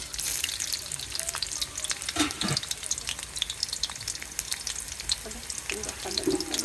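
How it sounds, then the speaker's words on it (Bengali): Onions drop into hot oil for pulao and sizzle continuously in the pan, a bright crackling hiss with occasional clinks and small bumps, close by and steady without talk. "পোলাও রান্না করা হবে, তেল গরম হয়ে গেছে, দিয়ে দিচ্ছে পেঁয়াজ"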